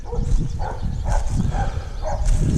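Neighbor's dog barking repeatedly at a steady pace, muffled and somewhat distant, about five barks over a rumbling noisy background.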